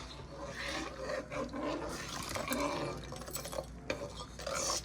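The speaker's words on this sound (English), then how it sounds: "Stir up the potassium sulphate." A spoon stirs potassium sulphate solution in a container to make crystals, producing continuous scraping and swirling that is close and fairly loud, with no talking.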